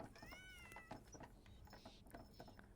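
A pet cat named Sparks in the game Dordogne gives a few bright, wavering meows near the start, close and clear over a busy game soundscape with soft clicks and rustles.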